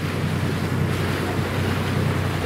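Ocean waves wash past the ferry to Spinalonga Island off Crete, a steady broadband surge mixed with wind buffeting the microphone, continuous and fairly close.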